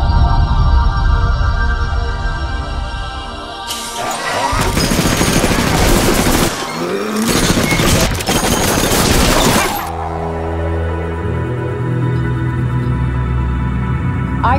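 Heavy automatic gunfire from a 2017 zombie-island action film trailer: a dense, loud fusillade erupts midway and runs for about six seconds, set between quieter stretches of score and ambience.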